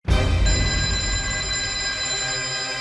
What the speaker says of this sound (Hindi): उसी नंबर से वापस फोन आ रहा है।